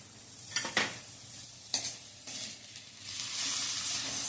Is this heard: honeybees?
no